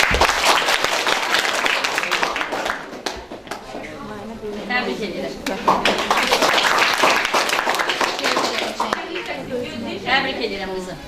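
A school history-evening audience claps for a winning girl, heavy applause that dips briefly in the middle, swells again and continues with scattered voices underneath.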